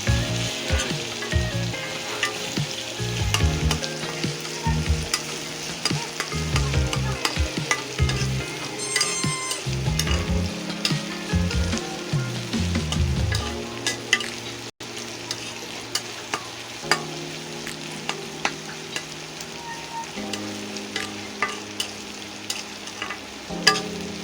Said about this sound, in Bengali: দেখেন চিংড়ি মাছ শুটকি দিয়ে নিয়েছি পেঁয়াজের ভিতরে এখন এটা নাড়িয়ে চাড়িয়ে একটু ভেজে নেব হালকা পরিমাণে